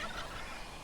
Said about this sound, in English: their turkey calls annoy me